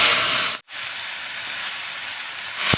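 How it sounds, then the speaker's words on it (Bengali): Salted, squeezed snake gourd pieces sizzle in a hot kadai with a loud, steady hiss that drops out for an instant before carrying on, with no voices. "এগুলোকে আমি ভালো করে ভাজা ভাজা করে নেব"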